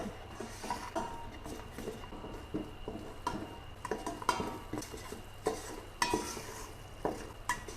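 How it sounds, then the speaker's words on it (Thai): Coconut sugar stir-fried in a pan until it darkens, heard as irregular, close scraping and clinking of a utensil against the pan over a light sizzle. "การจะผัดให้น้ำตาลมะพร้าวเขาขึ้นสีเลย"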